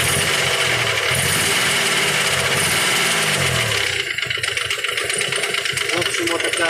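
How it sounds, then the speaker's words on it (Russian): A Nissan Maxima J30 with a VG30E engine runs with an abnormal knocking noise, a loud, dense mechanical clatter over the engine drone, with a rapid tapping rhythm becoming more distinct in the second half while someone speaks. "Ну, вы слышите, что стучит ненормальный звук."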